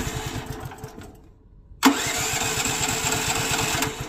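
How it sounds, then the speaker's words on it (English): A generator engine is started by hand: a rough, uneven run sputters out into a brief lull, then catches with a sharp jolt and settles into a steady, close, loud idle with a regular chugging pulse. "We're going to start the engine."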